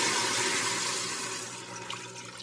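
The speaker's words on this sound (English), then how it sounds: "add about 3 cups of water or a chicken broth." About three cups of water being poured into a pot for Pasta e Ceci: a loud, continuous rushing splash that eases slightly over a couple of seconds. No voices.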